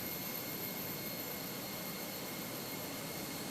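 Steady, even jet engine whine from an Airbus A320 with Sharklets in a flight simulator game, a constant broadband hum with a thin high tone running throughout, no voices.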